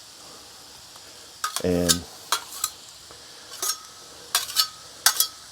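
Cabbage fries on a Blackstone griddle, a soft steady sizzle punctuated by a burst of scraping and several sharp metallic clanks of a spatula stirring, with a brief spoken word.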